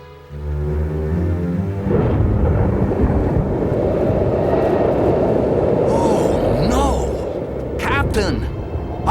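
A storm roars in an animated Bible cartoon, with a loud, continuous rumble of wind and thunder, and brief character cries over it near the end.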